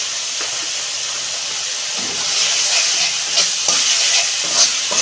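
Vegetables and spices with salt and garam masala fry in a hot pan for a vegetable egg curry, a steady loud sizzle broken by scraping stirs that grow busier in the second half, with no voices.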